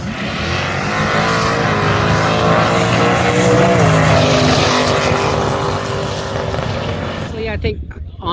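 A drag racing car at Luskville Dragway roars loudly for several seconds with a dense, sustained engine blare, then cuts off sharply near the end, with people talking nearby.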